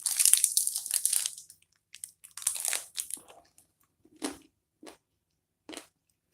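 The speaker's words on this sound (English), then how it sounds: "Can y'all hear me crunching this?" Crunchy food being bitten and chewed close to the mic, several loud crisp crunches at first, then a few short separate crunches spaced apart with quiet gaps between.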